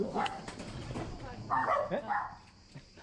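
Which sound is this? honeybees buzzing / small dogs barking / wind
small dogs barking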